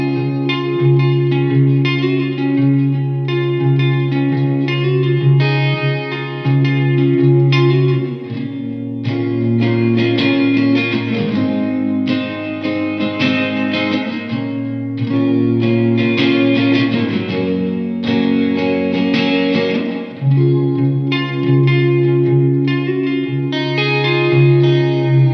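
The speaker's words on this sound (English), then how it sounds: "my favorites from the bunch of those guys are the Space Delay and the Reverb" An electric guitar played through Fender Hammertone Space Delay and Reverb pedals rings out in sustained chords and picked notes, loud and continuous, with echoing repeats and a spacious wash trailing each phrase.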